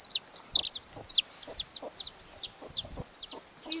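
A hen clucks among her all-black chicks, their high rapid peeping chirps repeating in quick bursts over soft low clucks, close and moderately quiet, with no talk.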